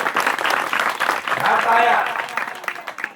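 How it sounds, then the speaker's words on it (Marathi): Audience applause at a lecture on Chhatrapati Shivaji Maharaj, dense steady clapping filling the whole stretch at a constant level, with no voices rising above it. "एकदा जोरदार टाळ्या परत एकदा त्या 3 मुलींसाठी वाजवा."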